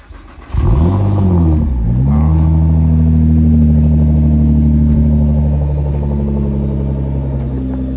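A Nissan GT-R R35 twin-turbo V6 fires up and revs loudly close by, a deep steady engine roar with rising and falling harmonics that holds strong after the first half-second and eases slightly toward the end.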